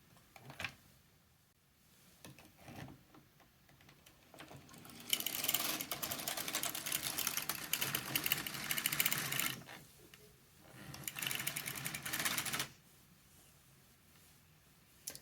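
A knitting machine carriage is pushed across the bed to knit a row of yarn, giving a loud, close mechanical whirring rush that runs for several seconds, pauses briefly, then resumes before stopping.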